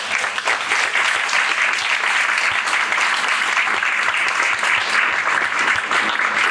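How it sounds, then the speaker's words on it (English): A lecture audience on Native history breaks into a dense, sustained burst of applause, loud and even throughout with no pauses. "I applaud you guys."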